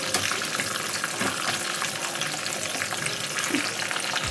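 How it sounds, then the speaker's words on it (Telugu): Frying in ghee in a pan makes a continuous close sizzle with light crackles and occasional stirring clinks, steady throughout with no talking. "కూడా నెయ్యిలో వేయిస్తున్నాను"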